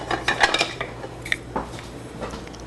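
Melted butter being stirred in a pot on the stove, with scattered metallic clinks and scrapes of a utensil against the pot over a steady low hum, no voices.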